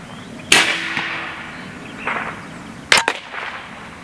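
Two sharp gunshots from a Huben K1 pistol fired on a range, the first near 0.5 s and a second louder crack with quick echoing reports around 3 s, separated by quieter thuds.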